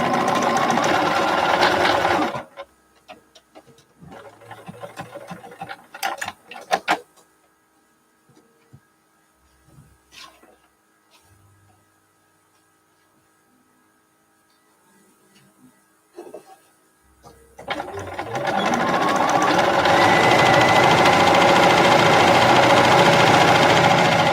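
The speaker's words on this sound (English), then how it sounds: "So here I'm going to sew this one." A sewing machine stitching quilt sashing pieces runs loud and steady for a couple of seconds, stops for a long quiet stretch with small handling clicks and rustles, then starts up again and runs continuously to the end.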